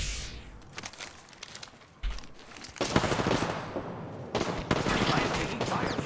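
Video game gunfire in a ranked battle-royale match, with bursts of rapid automatic fire that come and go in loud volleys, alongside occasional faint chatter.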